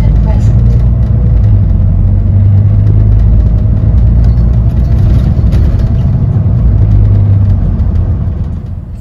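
A late-night Belfast city bus on the 96 route drives steadily, its low engine rumble and road noise loud and continuous, easing slightly near the end.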